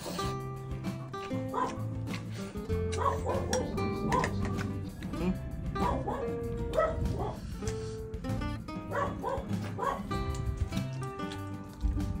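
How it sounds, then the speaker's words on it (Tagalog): A dog whimpers and gives short yips and barks over background music, with repeated high whines throughout. "Gutom na yung aso, naririnig ako."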